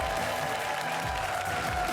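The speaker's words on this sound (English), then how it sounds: "Give them a big old positive cheer as they go into position." A studio audience at a GamesMaster game show cheers and applauds as contestants take position, a dense, continuous wash of clapping and crowd noise at steady loudness.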